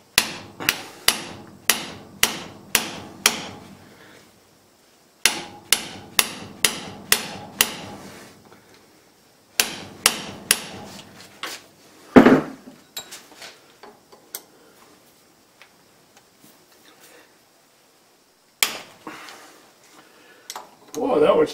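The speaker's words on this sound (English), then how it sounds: "Let's try the impact driver again with a metric Allen socket." An impact driver fitted with a metric Allen socket hammers in three rapid rattling bursts, a louder knock and a final short burst, close and loud with brief pauses between; a voice speaks faintly.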